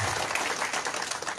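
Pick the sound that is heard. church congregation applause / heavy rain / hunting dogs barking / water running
church congregation applause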